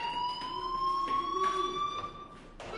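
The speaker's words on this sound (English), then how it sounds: "do you hear that fire alarm? That means you should be outside." A fire alarm in a school setting in the video game Life is Strange rings as a continuous high electronic tone that holds steady for the whole stretch, loud and close, with faint background murmur beneath.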